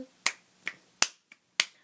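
Five sharp, close finger snaps at uneven intervals, each a crisp isolated crack with near silence between them.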